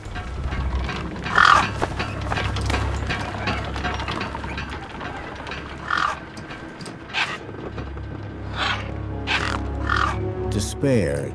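Harsh scavenger bird calls from the wasteland of the video game Beyond a Steel Sky, several caws rising in bursts over a continuous low rumble, with a voice speaking throughout.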